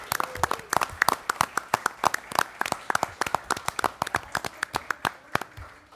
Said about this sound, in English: Have a round of applause for Armida.